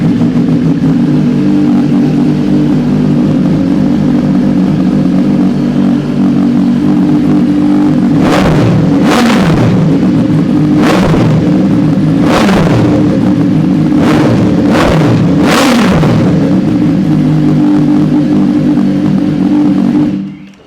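A superbike fires up and revs hard several times in sharp, loud bursts over a steady deep idle, the burble running throughout with a clattering mechanical edge.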